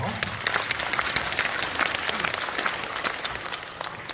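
Lively audience applause at a crypto wallet token launch presentation, crisp continuous clapping lasting several seconds with little else over it.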